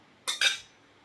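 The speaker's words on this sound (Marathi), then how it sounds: "मस्त असं ढवळून घ्यायचंय बघा" A spoon scraping and clinking twice against a pot of misal curry, a quick close double metallic scrape and then quiet.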